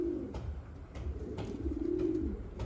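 Feather-footed pigeons coo near and steadily, their low rolling calls repeating over a constant hum, with a few faint clicks and scuffs and no talk.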